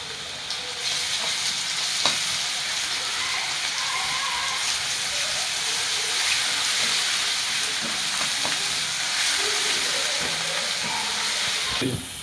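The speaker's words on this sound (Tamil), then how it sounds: "இப்போ வந்து இஞ்சி பூண்டு வதக்கிக்கலாம்" Ginger and garlic sauté in a pan for a village-style country chicken curry, a steady close frying sizzle with occasional light stirring clinks and no speech.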